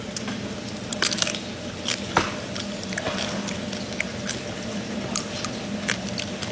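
Crispy lechon skin is bitten and chewed up close, giving a run of crackling crunches and moist squishy bites at an uneven pace, with no talking.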